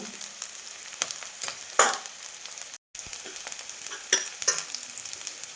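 Whole spices and cardamom frying in oil for spiced rice, a soft steady sizzle with a few sharp stirring clinks and one brief dropout.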